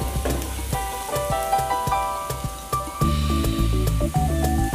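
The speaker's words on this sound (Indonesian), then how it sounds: "akan tumis bawang putih" Garlic stir-fries in a pan over moderate heat for a dish of bitter melon with shrimp in oyster sauce, a steady sizzle with scraping stirs, while steady tonal music plays throughout.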